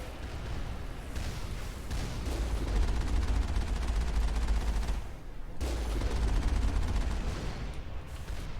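Sustained, rapid gunfire rattles in dense, overlapping bursts during a Mass Effect video game firefight, loud and close with only a brief lull midway, and no voices.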